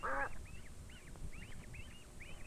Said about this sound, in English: Father and mother duck go into the water first.